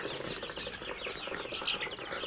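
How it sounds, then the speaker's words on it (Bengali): Young Egyptian Fayoumi layer chickens at a poultry farm, a dense chorus of high cheeping and chirping from many birds close by, continuous and busy with no talk. "এই মুরগিগুলো হচ্ছে মিশরি ফাউমি, মানে মিশরীয় জাতের মিশরীয় ফাউমি লেয়ার মুরগির বাচ্চা"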